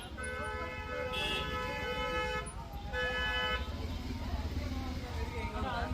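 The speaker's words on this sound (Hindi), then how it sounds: "पर फिर भी गाड़ियों के हॉर्न देखो।" Car horns honk repeatedly in busy town traffic in McLeod Ganj, Himachal Pradesh, with several toots and a longer blast over engine rumble.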